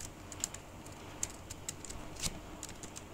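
Light, quick keystrokes tap on a computer keyboard in an irregular pattern of soft clicks, close and fairly quiet with no talking.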